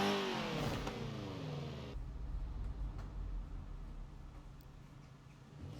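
A 1960 Porsche 718 RS 60 in Forza Horizon 4 pulls away on a test drive, its engine revving up loudly and then settling into a steady, rumbling drone as the car cruises on, with no talking.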